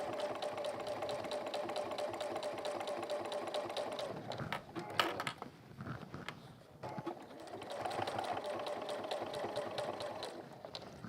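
A sewing machine stitches down one side of a bag in two runs of steady, fast needle chatter, with a short pause and some handling clatter in between, heard fairly faint and close.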